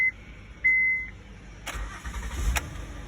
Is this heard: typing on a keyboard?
no